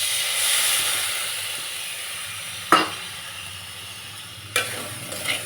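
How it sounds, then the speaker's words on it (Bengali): Oil sizzles in a pan as vegetables sauté with salt and turmeric over a cumin tempering. A loud hiss opens and slowly fades, broken by two sharp stirring clatters, and no one speaks. "এই যে সাঁতলে নিচ্ছি নুন হলুদ দিয়ে"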